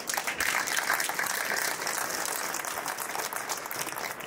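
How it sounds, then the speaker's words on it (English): Audience applause at an electronics engineering competition event, dense sustained clapping from a large crowd, loud and even throughout. "please one more applause for Alain"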